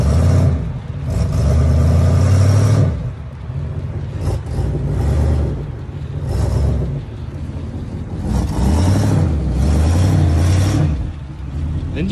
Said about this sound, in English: Engine sounds good, but I think she is